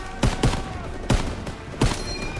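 Gunfire in the Call of Duty: WWII D-Day mission, four sharp rifle shots at irregular intervals over a continuous battle rumble.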